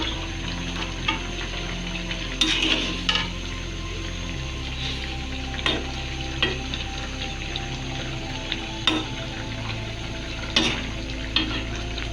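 Sarputi fish curry with potato and tomato simmers in a pan while being stirred, a soft steady bubbling broken by several sharp clinks and scrapes of a spoon against the pot, fairly close, with a low hum underneath and no talk.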